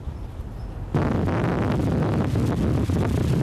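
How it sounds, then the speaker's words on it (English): Strong wind roars during a record-damage windstorm in Salem Township. A quieter lull breaks abruptly into loud, buffeting gusts that batter the microphone with continuous rushing noise. "the wind was truly the story all day, and anything coming in its path was simply blown with it"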